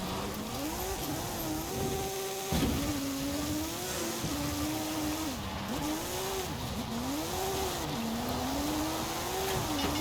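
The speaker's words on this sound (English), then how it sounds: "It's got so much power that it just absolutely hoons ahead." A Pontiac Trans Am in Forza Horizon 5 powers ahead with a loud, sustained engine note, its revs climbing and dipping through gear changes over about ten seconds, joined by brief tire squeal.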